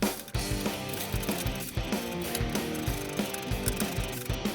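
Repeated ratcheting clicks in short bursts, close up, like a screw being driven with a ratchet driver, reattaching screws on a bathtub drain stopper; no talking.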